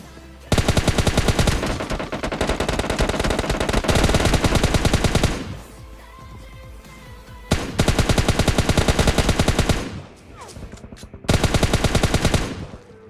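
Rapid automatic M4 rifle fire in PUBG Mobile Lite, with several long, loud bursts of dense, fast shots separated by short pauses.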